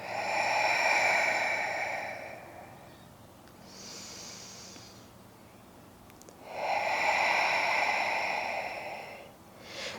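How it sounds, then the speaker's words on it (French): Deep breaths drawn in and let out through the nose during prenatal yoga, close and soft, in slow long swells: two strong inhalations with a fainter breath between them. "Ouvre bien les narines sur l'inspiration."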